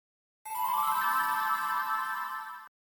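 A phone ringtone rings loud and steady for about two seconds, a bright electronic tone that sweeps upward at the start and then holds, with nothing else audible around it.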